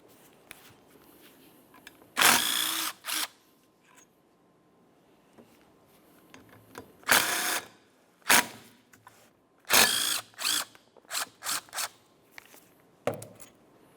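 A power tool whirs in short, sharp bursts, loud and close against a quiet background, while the caliper slider pins come out of a front brake caliper on a 1994-2002 Dodge Ram 2500.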